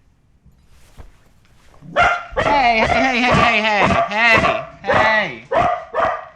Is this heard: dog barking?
yes